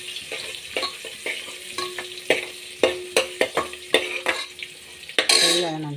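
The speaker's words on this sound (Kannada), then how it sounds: "ಸ್ವಲ್ಪ ಅರಿಶಿನ ಹಾಕಿ ಚೆನ್ನಾಗಿ ಫ್ರೈ ಮಾಡೋಣ." Food fries with turmeric in a pan, a soft sizzle under a series of sharp, close stirring clinks and scrapes of a spoon against the pan, with a louder clatter near the end.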